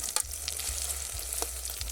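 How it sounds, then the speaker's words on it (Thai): Steady sizzling of an omelette frying in hot oil in a pot, with a few brief clinks and stirring scrapes over a constant low hum. "มาทำไข่เจียว ในหม้อ"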